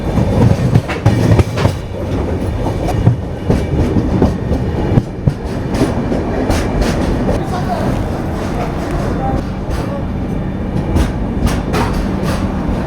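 Shatabdi Express train rolling into Salem station, steady loud rumble with rhythmic clickety-clack of wheels over rail joints, heard from on board for several seconds with faint background talk.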